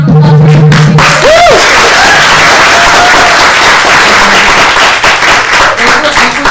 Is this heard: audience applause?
yes